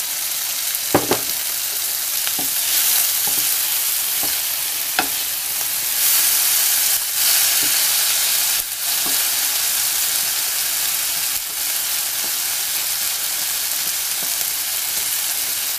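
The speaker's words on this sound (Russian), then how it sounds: "Сейчас чуть-чуть вот это прижарю и залью яйцами." Meat sizzles steadily in a hot frying pan, a close, loud, continuous frying hiss with occasional clicks and stirring scrapes, no one talking over it.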